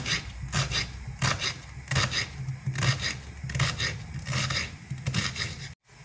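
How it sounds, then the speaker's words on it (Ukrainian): An onion being finely chopped with a knife on a board, a close, rapid run of rhythmic rasping cuts repeating steadily, cutting off abruptly near the end. "беремо цибулинку, ріжемо її дрібненько"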